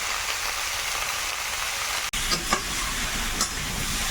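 Spices fry in a pan for a shrimp curry, giving a steady hiss of sizzling broken by a sharp brief dropout midway, then a few spoon scrapes and pops.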